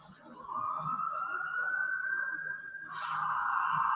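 An emergency siren wails outside, its tone gliding upward and then swinging back, steady and moderately distant against quiet background noise.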